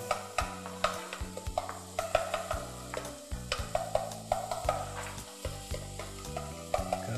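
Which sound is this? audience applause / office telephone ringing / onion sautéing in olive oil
onion sautéing in olive oil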